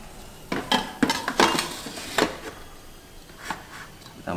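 A metal inner pot set into a Magicom rice cooker, several close clanks and knocks in a quick cluster, then a couple of softer taps, no voices.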